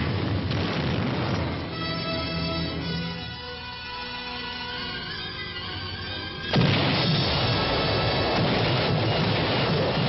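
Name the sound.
heavy preparatory artillery fire bombardment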